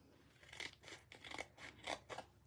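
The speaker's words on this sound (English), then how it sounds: "we're just going to cut out a little slither" Paper being cut with scissors for a craft project, five or six crisp snipping strokes in a steady rhythm, close and quiet with no talking.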